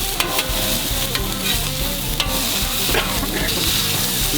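Loud, steady sizzling of pineapple, burger buns and onion frying on a flat top grill, with continuous crackle and small pops throughout.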